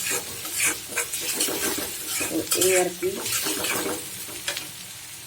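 Onions frying in a pan for braised koi fish curry, with steady sizzling under repeated stirring and scraping of a utensil against the pan, close by, while a voice speaks briefly at the start.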